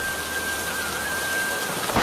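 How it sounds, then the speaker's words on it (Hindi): Heavy rain pours down steadily outdoors in a dense, even hiss that fills the whole stretch, with no voices and a faint steady tone running beneath the downpour. "इतनी भारी बारिश हो रही है।"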